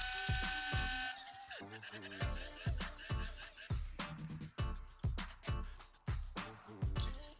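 A grinder, held upside down, pulverizes homemade fish food into fine powder in repeated short whirring bursts with brief pauses between them, close and fairly loud, with no voices.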